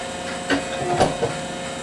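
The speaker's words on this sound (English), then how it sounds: "This machine is also used to cut the outer sole." A workshop machine cuts thick, heavy outer soles for custom boots, making a close mechanical whir with a few short grinding bursts over a steady hum, and nobody talks.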